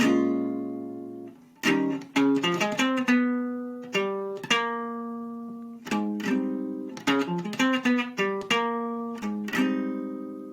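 A quick run of plucked single notes in a swinging jazz phrase, fast bursts separated by short pauses, played alone and fairly quiet.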